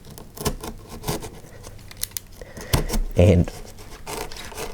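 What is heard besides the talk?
cutting into high density foam and chicken wire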